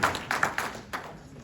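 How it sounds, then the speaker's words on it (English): A few scattered hand claps from a small audience at a community centre's 30th anniversary gathering, brief and fairly quiet, fading after about a second. "round of applause, you know how to do it"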